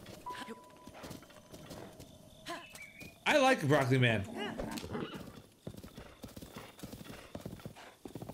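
Rapid clip-clopping hoofbeats of a galloping horse with a brief whinny, game-like sound effects, and a person talking over it, in the video game Breath of the Wild.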